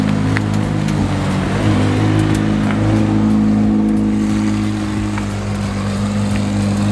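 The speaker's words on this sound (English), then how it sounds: "it sounds like the Senna GTR is about to leave" A McLaren Senna GTR's loud, throaty engine idles and revs close by as it prepares to leave, its deep rumble swelling and easing over several seconds without pause.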